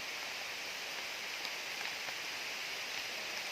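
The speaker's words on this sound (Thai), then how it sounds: "ฝนตกมาอย่างหนักเลยนะครับ" Heavy rain pours steadily onto forest trees in a rubber plantation, a dense, even hiss with no break and no voices.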